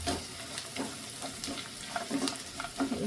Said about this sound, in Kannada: ಇವಾಗ ಎಲ್ಲ ಚೆನ್ನಾಗಿ ಮಿಕ್ಸ್ ಮಾಡ್ಕೊಳ್ಳೋಣ